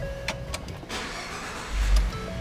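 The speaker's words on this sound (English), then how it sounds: "Truck fires right up, runs nice and smooth." A used Ford F150 pickup engine is started, with several sharp clicks and a crank that settle into a steady, smooth idle near the listener, with a low rumble swelling toward the end.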